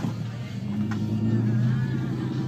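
A 2003 Chevy 1500 pickup truck drives along a road with a steady, low engine rumble and road hum that holds at an even level throughout.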